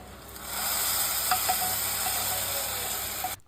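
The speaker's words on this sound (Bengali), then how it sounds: "তো ফোড়নটা এখন খিচুড়িতে দিয়ে দেবো" Fried coconut tempering hits khichuri with a sudden steady hiss and sizzle, close and even, dotted with a few small pops and crackles before cutting off.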